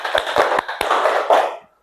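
Hands clap in a rhythm exercise: four sharp, close claps in quick succession, followed by a brief busy patch of overlapping sound that fades out.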